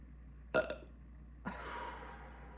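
A single loud, throaty human burp erupts abruptly, followed by a breathy exhale, with a quiet background and no talk.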